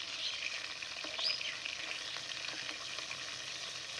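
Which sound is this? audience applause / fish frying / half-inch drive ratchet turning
fish frying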